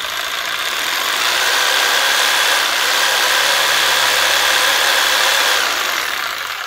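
A reciprocating saw runs continuously at high speed, a loud, steady buzzing whine with no pauses or talk.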